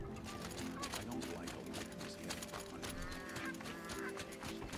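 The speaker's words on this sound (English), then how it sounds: "Little geese." Geese honking in the Horizon Zero Dawn video game, several calls rising out of a dense, continuous backdrop of game ambience and tones.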